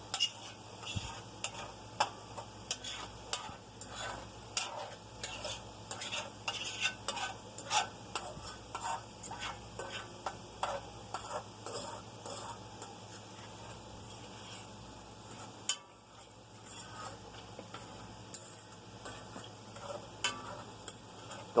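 Scrambled eggs stirred in broth in a 60-year-old cast iron skillet, with repeated scraping and clinking strokes over a steady low sizzle, continuing in an uneven rhythm throughout.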